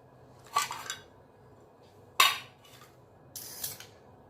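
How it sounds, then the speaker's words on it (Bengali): Knife cutting potatoes on a kitchen board, three separate sharp chopping clacks spread over a few seconds with quiet gaps between them and no speech. "এবার আলু কাটবো"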